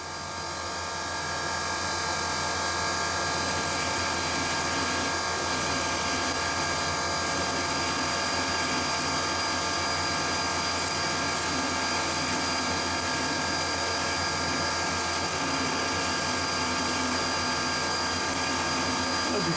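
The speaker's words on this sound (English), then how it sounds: "Right, the dreaded moment, parting off." A metal lathe parting off a bush for a Leyland front loader pin, a steady, dense mechanical drone with a grinding edge that runs unbroken and close for the whole stretch.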